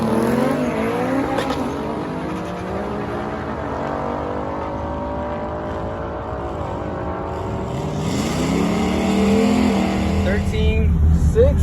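A boosted 440-horsepower Honda Civic launches at an Import Alliance Kentucky 2019 car event, its engine revving hard and holding high with the tires spinning, as voices talk over it.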